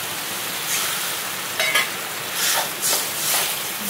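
Dhekia fern greens fry in a pan with tenga and a little water, giving a soft sizzle under a few scraping stirs of a spoon against the pan.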